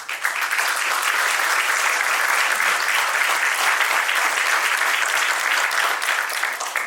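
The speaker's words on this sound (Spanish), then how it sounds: "pido por favor para nuestro INDECI un fuerte aplauso" A large audience applauds loudly and steadily at a public event, a dense wash of clapping that holds evenly throughout with no pauses.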